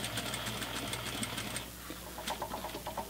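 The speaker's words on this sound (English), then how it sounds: "I'm going to sew to about right there and then back tack." A sewing machine stitches an elastic waistband onto a pair of pants, a close, fast mechanical whir and needle chatter that runs steadily, pauses briefly, then resumes in short rhythmic bursts for the back tack.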